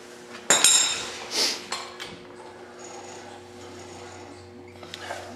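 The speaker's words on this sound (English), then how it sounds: "Castle nut, take that off." Castle nut being removed from a 1972 VW Beetle rear brake, heard as a sharp metallic clank and scrape close by, followed by lighter tool rattles and small taps against a low hum.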